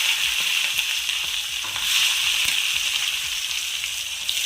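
Crushed small shallots frying in coconut oil left over from frying pappadam, a dense, close crackling sizzle with rapid spattering pops throughout, no voices.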